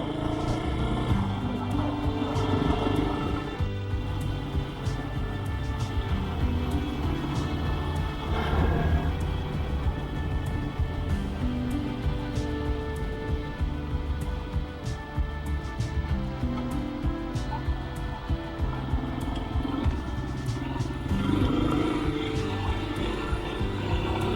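An enduro motorcycle engine drones steadily while riding, a rough continuous mechanical hum with small shifts in throttle and no pauses.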